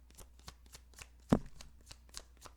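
Tarot cards shuffled by hand, a quick sequence of soft close flicks with one louder slap partway through, quiet and without talk.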